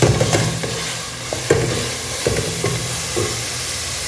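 Mutton frying in oil in a pot for Dindigul biryani, a dense, close sizzle with rhythmic scraping thuds as a ladle stirs the meat, no talking.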